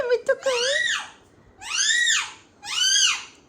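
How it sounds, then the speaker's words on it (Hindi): Pet myna bird screeching loudly in three drawn-out, harsh, rising-and-falling calls, close by, with brief sharp clicks at the start and quiet gaps between. "बहुत प्यारी है ये मैना, हमारी सबसे प्यारी है।"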